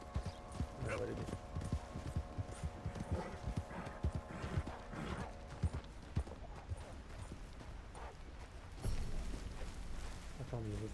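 Horse hooves clip-clop in Red Dead Redemption 2, an uneven run of hoof beats with a whinny and some creaking, heard under intermittent talk.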